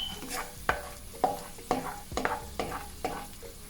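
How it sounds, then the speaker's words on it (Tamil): Cashews frying golden in a pan of fat for rava kesari, stirred with a spoon; a sizzling bed sits under six or seven sharp, evenly spaced scraping strokes against the pan. "கஜுவும் இப்படி பொன்னிறமாக பொரிஞ்சு வரணும்"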